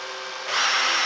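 A cordless battery drill whirs as its chuck jaws open and close, a steady motor whine that jumps louder and brighter about halfway through and holds, close up and with no voices.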